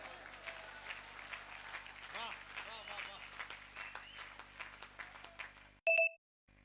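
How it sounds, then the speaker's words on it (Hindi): A crowd at a Hindi poetry gathering claps in scattered applause with speech mixed in, followed by a brief electronic beep near the end. "मजा आ रहा हो तो एक बार ताली बजाओ यार।"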